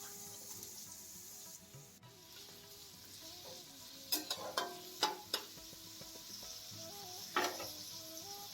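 Chopped onions hitting hot oil in a pan: a low, steady sizzle with a few sharp crackling bursts and stirring scrapes in the middle and near the end, quiet overall with no talking.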